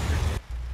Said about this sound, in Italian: Già subito partire con la pioggia.